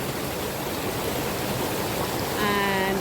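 A waterfall near Kingston, Jamaica, heard from a resting spot beside it, makes a steady broadband rush of falling water. A brief tonal voice-like sound rises over it at the end.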